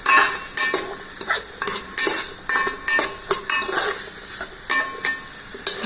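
Onions sautéing in an electric cooker, a steady sizzle with repeated close scraping stir strokes in an uneven rhythm, fairly loud and with no talk.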